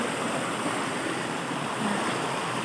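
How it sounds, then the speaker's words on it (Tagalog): Rushing water at Busay falls, a bathing spot, roars in a steady, dense, unbroken wash that fills the whole stretch at close range with no voices. "Amo ni kadaloy ang tubig dito."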